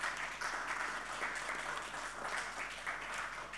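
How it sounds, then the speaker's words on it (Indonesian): An audience at a corporate public expose claps in a steady wash of applause, sustained and fairly even throughout, heard from within the room at a modest level. "Boleh berikan tepuk tangan Bapak Ibu?"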